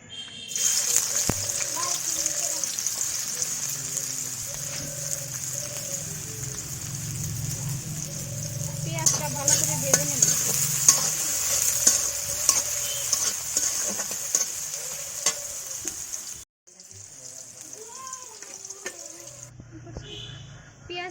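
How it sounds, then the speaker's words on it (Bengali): Chopped onion hits hot oil in a wok and sizzles steadily, with stirring scrapes and clatter throughout before briefly dropping off and resuming. "কড়াইতে তেল দিয়ে দিছি, তেলটা গরম হয়ে গেছে। এখন দিয়ে দিব পেঁয়াজ কুচি"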